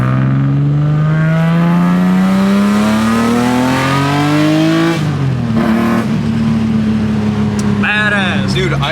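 A BMW E30 with a swapped S54 straight-six engine revs steadily upward for several seconds while driving, drops briefly at a gear change, then holds a loud, steady drone before another rise.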